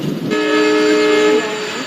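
A passing Udaipur City SF Express train sounds a sustained, loud horn blast of about a second, followed by rumbling rail noise.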